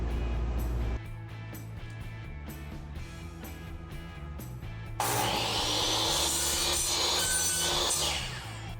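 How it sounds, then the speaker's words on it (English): Saw ripping a 5 inch wide wooden board into lengths, a low steady motor drone with repeated ticks, then a louder, brighter cutting roar in the second half that eases off near the end. "So I've got this 5 inch board here. I'm gonna rip it into, I need at least 4 28 inch boards,"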